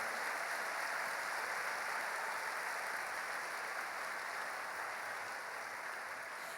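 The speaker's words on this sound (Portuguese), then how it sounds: "Aplauda Jesus nessa noite" A church congregation applauding during an evening service, a dense, steady wash of many hands clapping, even and continuous throughout with no voices standing out.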